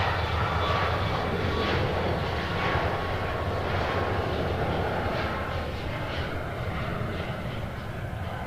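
An Allegiant jet airliner at Nashville International Airport gives a loud, sustained engine roar with a rising whine, steady and nearby across the whole clip, with occasional talk underneath.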